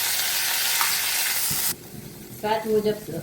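Potato khichdi (sabudana and peanut style) sizzles steadily in a pan, then drops off sharply partway through as stirring takes over, followed by a few short louder scraping or tonal bursts near the end.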